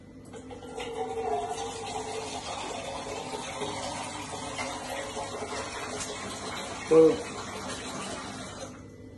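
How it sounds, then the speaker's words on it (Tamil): Water is poured into a cooking pot holding a quarter kilo of meat. It makes a steady, close hissing pour that lasts about eight seconds, with a brief knock near the end. "நம்ம வந்து கொஞ்சம் தண்ணி விட்டு வேக வைக்கலாம்"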